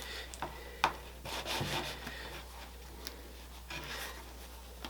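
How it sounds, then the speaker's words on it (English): A knife saws off the top of a bread loaf to make a bread bowl: quiet, scratchy rubbing strokes come and go in short bursts, close but faint, with no talk. "Could just slice a little bit off the top here."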